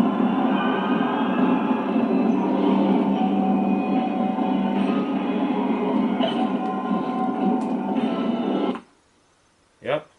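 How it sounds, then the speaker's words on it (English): An infernal train in Alice Madness Returns rumbles on in a dense, continuous roar of rolling machinery, loud and unbroken for several seconds before cutting off abruptly into near silence. "Infernal train."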